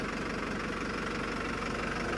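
A 2017-model TT 75 tractor engine idles steadily and loudly up close, with a continuous low knocking diesel rumble and no talking.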